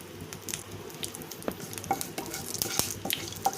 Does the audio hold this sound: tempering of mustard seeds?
yes